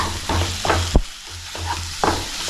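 Coriander powder being stirred into a frying masala, loud close sizzling with rhythmic spoon scrapes and a sharp knock against the pan near the middle.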